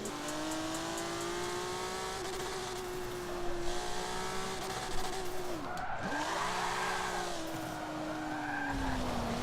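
A 700hp Mitsubishi GTO drifts in Forza 7 with a sustained, droning engine note and squealing tires, the pitch dipping and swooping as it slides through a jump section.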